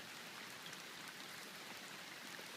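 Steady rain falls outdoors, an even, faint hiss of drops hitting surfaces with no pauses or voices.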